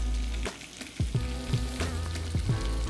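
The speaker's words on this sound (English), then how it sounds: "To my pot, I'm gonna add my butter. All right, I'm gonna go ahead and throw in my garlic." Garlic cloves sizzle in butter in a pot with a soft, steady crackle. Small pops and stirring clicks sound close up, and no one speaks.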